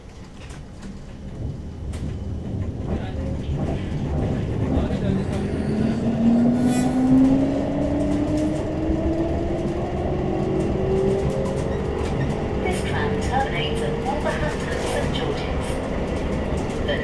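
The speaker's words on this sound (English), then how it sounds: "This tram is about to depart." A CAF Urbos 3 tram of the West Midlands Metro pulling away from a stop, its rising motor whine climbing steadily over continuous rumbling rail noise that stays loud and close throughout, with a faint announcement voice at the start.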